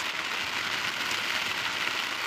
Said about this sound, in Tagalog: Sumisilong at kasi malakas yung ulan